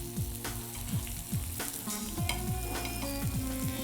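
Chili powder fries in hot oil for taro chops, a dense, close sizzle with stirring over a faint tonal background, no speech.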